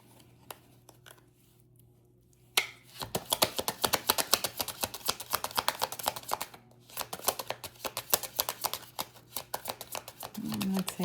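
Tarot cards being shuffled by hand: a dense run of crisp riffling and flicking bursts that starts abruptly after a quiet opening and carries on steadily, fairly close and moderately loud, with no talking over it.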